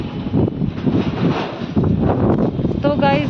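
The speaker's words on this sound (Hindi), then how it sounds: "बहुत हवा चल रही है।" Strong wind blows on a home balcony, with rough, gusty microphone buffeting that stays loud and continuous while someone talks over it.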